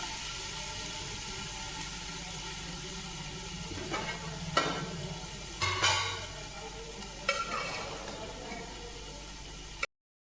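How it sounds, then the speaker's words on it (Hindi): Ingredients sizzle in a pan with fried garlic over low heat, a steady soft frying hiss broken by a few clattering stirs and additions, close and without talk. "लहसुन भुन गया है, इसमें आप ये हल्की आंच करके ये सभी चीज़ें डाल देंगे।"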